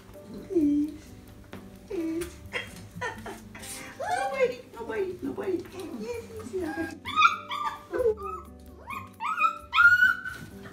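Several puppies whimper and yip in repeated high, wavering cries at close range, with someone talking and laughing among them during bath time.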